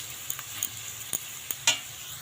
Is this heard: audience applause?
no